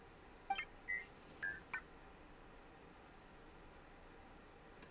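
Soft electronic beeps from the robot Thelxie in the video game Genshin Impact, a few short tonal chirps in the first two seconds over a faint hiss, then near silence.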